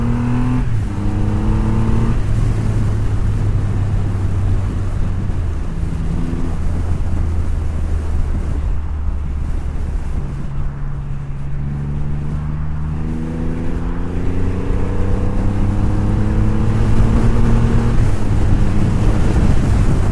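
A Triumph Rocket 3 GT motorcycle engine revs and accelerates through several gears, pitch climbing and dropping between shifts, with wind buffeting throughout.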